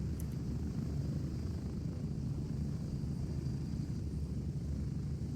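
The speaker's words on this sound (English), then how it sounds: "Wait for the helo to take off." A helicopter in the Gray Zone video game preparing to take off: a steady, fairly quiet low rotor and engine drone that holds even throughout with no clear rise.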